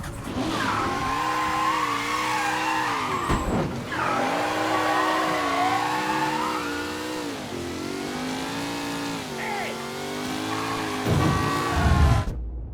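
A car engine revs and surges steadily in Mafia III: Definitive Edition car combat, with tire squeals and skids cutting through as the vehicle swerves, loud and continuous with brief dips and a roaring burst near the end.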